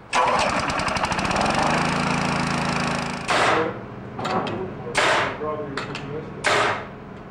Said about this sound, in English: This wheelbarrow-style air compressor moves about the job site easily and produces enough air to run 3 to 4 framing nailers.